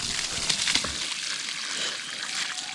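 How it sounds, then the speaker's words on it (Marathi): Water gushing from a newly struck borewell and running across a soaked road, a continuous splashing, sloshing rush heard up close. "एवढा रस्ता भिजवून झालेला आहे, आणि पाणी अजून येतं आहे"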